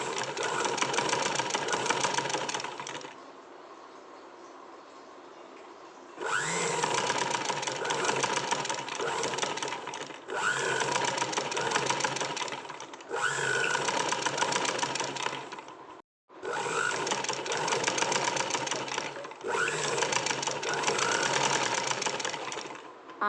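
A sewing machine stitches sleeves onto a blouse, whirring in long, steady, close runs of rapid mechanical chatter, broken by short pauses and one quiet gap between runs.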